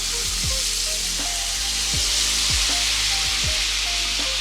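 Pork ribs, bone side down, sear in a hot pan for a Mexican dish of ribs in salsa, giving a steady loud sizzle with a few light utensil knocks and scrapes.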